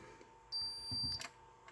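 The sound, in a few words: insulation resistance tester beeping during continuous measurement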